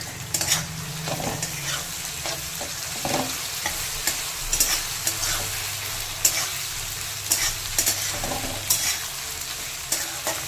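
Fried potatoes with garlic and ginger paste are stirred in a hot pan, a continuous oily sizzle broken by scraping strokes of a spatula against the metal, close and steady, with no voices.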